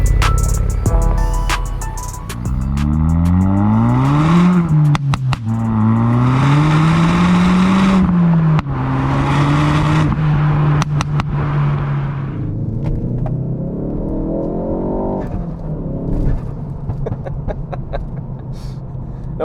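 A tuned Ford Focus ST MK4 with a Revo stage two remap accelerates hard, its engine note climbing loud and close through several gear changes with rising and falling pitch sweeps, fading to a lower drone near the end.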